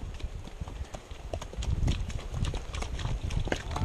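Horse hooves clip-clop steadily through a trail ride in Viñales, Cuba, the rhythmic knocks close and fairly loud, building a little in the second half with faint voices around.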